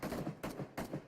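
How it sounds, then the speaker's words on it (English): Three muffled bursts of gunfire ring out in PUBG Mobile, each a short rapid volley, the exchange quiet and distant, separated by brief gaps. "We are hearing a couple of gunshots going around, but nothing happening critical yet"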